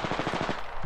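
Automatic gunfire in the video game Apex Legends, a fast burst of about eight evenly spaced shots, loud and close, ending abruptly.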